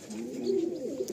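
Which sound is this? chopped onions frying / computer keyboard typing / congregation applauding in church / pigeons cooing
pigeons cooing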